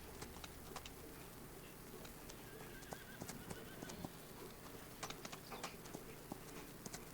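Horses in the Farming Simulator 25 video game, clip-clopping hoofbeats with occasional sharper thumps over a low ambient bed, moderately distant, with birds cooing faintly and no talking.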